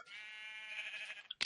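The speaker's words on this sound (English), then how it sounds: "Let's throw the sheep off." A sheep in the Minecraft video game (Technic modpack) gives one faint, wavering bleat, followed by a brief soft click.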